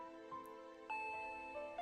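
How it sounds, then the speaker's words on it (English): A doorbell chime in the Higurashi visual novel game rings out as two clear ding-dong tones, sounding near and bright over a steady, sustained musical backdrop. "That chime signaled that Rena had arrived"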